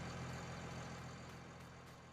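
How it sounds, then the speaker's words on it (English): Low, steady engine idle of a farm vehicle in Farming Simulator, a continuous rumble with a faint whine holding evenly throughout, alone with no talk. "leave that engine running"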